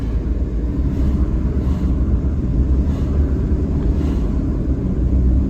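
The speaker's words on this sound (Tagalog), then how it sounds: "traffic." Steady low rumble of road traffic heard from inside a moving car, a continuous muffled drone with a few faint passing swells and no voices.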